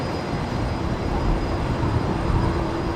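A Boeing 747 roars directly overhead at Brisbane Airport, a loud, steady, broadband rumble that fills the whole stretch without easing off.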